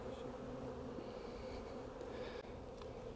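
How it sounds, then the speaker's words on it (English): Honeybees buzzing in a dense, steady drone around an open hive frame while a beekeeper works, close and continuous with no talk. "You're going to let all the foragers will fly off, and then I'll just leave you with the nurse bees."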